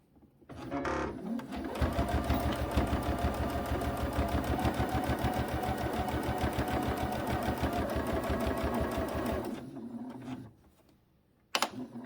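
A sewing machine runs steadily for about eight seconds while sewing binding onto a quilt, loud and close, with brief quiet handling sounds before it starts and after it stops.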